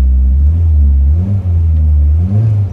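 A car engine, presented as a Ferrari, revs up and down in a loud, close, throaty rumble with several rising and falling pitch swells and no talk.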